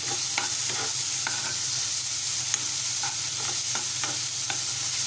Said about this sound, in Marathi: मिश्रण छान एकजीव करून घेऊया आपण